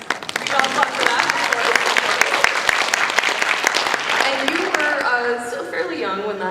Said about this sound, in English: We got applause for that.